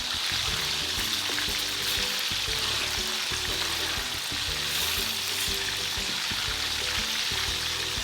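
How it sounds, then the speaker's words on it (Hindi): Chicken pieces with salt fry in hot oil in a karahi for Peshawari-style charsi chicken, giving a loud, steady sizzle with continuous crackling and occasional stirring scrapes throughout. "चिकन और सिर्फ नमक डाल के चिकन को भूनिए। ऑयल गर्म हो गया तो इसमें डालेंगे चिकन।"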